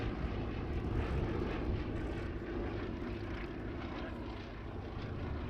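A Westland Lysander propeller aircraft passes at an air show, its engine a loud, steady, broad drone that holds throughout with a slight fade toward the end, with no voices.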